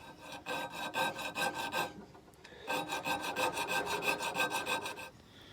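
A half round needle file cuts into steel for a Scottish dirk forged from an old file, with rapid even back-and-forth rasping strokes up close, broken by one short pause.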